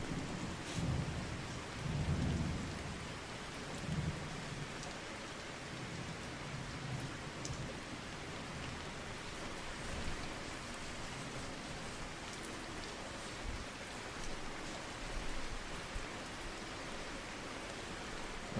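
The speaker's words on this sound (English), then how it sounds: "so it's a wonderful extra sound in the background. Some thunder." Steady rain with low rumbles of thunder swelling early on fills the background of the video game Wild Terra 2, a continuous wash of falling water with no talking.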